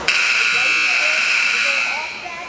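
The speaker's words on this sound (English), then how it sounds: "There's the first buzzer." A loud electronic buzzer blares at a basketball game, one sustained harsh tone holding for over two seconds before tailing off, with voices faintly underneath.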